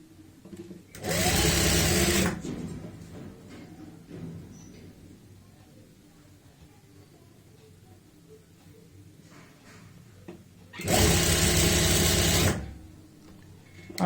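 Sewing machine stitching elastic onto pants, running in two loud, close bursts of about a second each, separated by a long quiet stretch.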